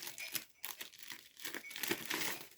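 Plastic parcel packaging is crinkled and torn open close up, with bursts of crackling rustle and short ripping sounds, no talking.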